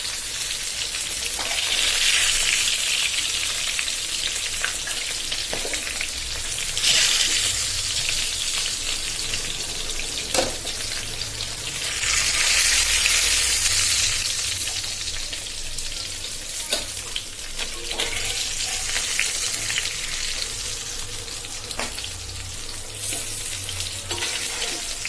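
Fish and vegetable bhaji frying in oil in a pan, a continuous close sizzle that swells and eases over time, with occasional spatula taps and faint watery sounds, no talking.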